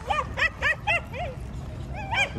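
Small dogs on a Washington DC street giving a run of high, yipping barks and whiny yelps close by, several quick bursts with a short pause before more yips.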